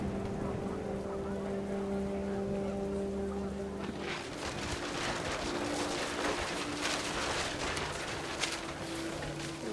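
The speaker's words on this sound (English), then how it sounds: "panicked geese appeared and quickly went" Panicked geese honking in What Remains of Edith Finch, a cluster of nasal honks over rising wind and rain noise, with a steady low tone fading out early.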